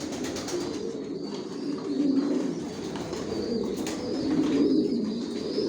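Pigeons of a racing line coo in a multi-storey breeding loft, overlapping low, throaty calls that swell and fade in waves, with a few faint chirps above.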